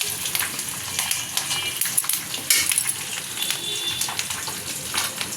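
Dried red chillies frying in very hot oil in a pan, giving a continuous crackling sizzle with sharp pops and spits throughout, close and clear with no talk.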